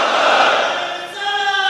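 A large crowd at a Muharram religious gathering shouts the takbir slogan in unison, one loud, sustained collective cry that swells and then fades off.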